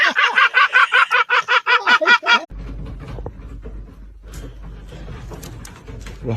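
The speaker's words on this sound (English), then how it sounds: "I got a bird." A bird calls at close range, a burst of about ten loud, rhythmic, harmonic calls. Quieter shuffling and handling noise follow.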